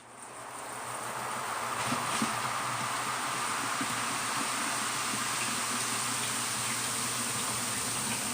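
Nina Soft spin dryer running with its lid closed on a load of wet wool, giving a steady, loud broadband whirring hum that rises in the first moments and then holds constant throughout.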